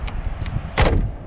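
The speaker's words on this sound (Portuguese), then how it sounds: "Vou fazer o teste aqui da portinha." The door of a 1968 Volkswagen Beetle closes with one solid, loud thud, preceded by a couple of faint clicks from the latch.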